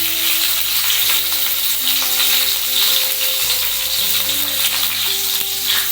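Green chilies, mustard seeds and cumin sizzle in hot oil in a pan as onion poha is made, a loud, steady crackling fry with no talking.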